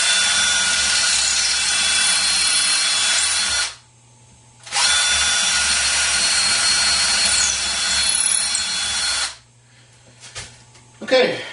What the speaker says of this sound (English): go ahead and drill through the mounting holes all the way through the skull plate